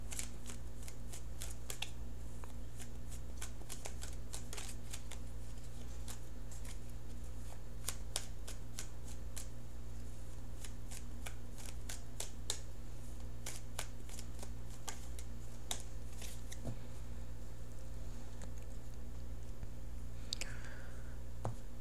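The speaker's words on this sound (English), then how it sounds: "So I'm shuffling here." Tarot cards being shuffled repeatedly in a quiet room, a steady run of crisp riffling clicks and snaps with a low constant hum underneath; no talking.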